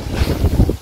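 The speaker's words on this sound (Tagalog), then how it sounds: "Mahangin dito guys. Sobrang hangin dito." Strong seaside wind at dusk buffets the microphone in loud, rumbling gusts, with surf noise underneath and no speech.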